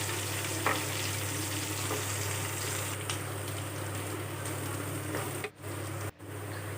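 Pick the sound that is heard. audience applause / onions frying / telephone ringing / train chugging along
onions frying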